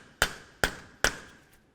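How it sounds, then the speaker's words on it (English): A hammer drives a punch against the center of a front axle on a 2004-2006 Scion xB during a lower ball joint job, three sharp metallic strikes spaced evenly about 0.4 seconds apart, close and ringing. "Continue on with a hammer and punch, come right in the center of the axle."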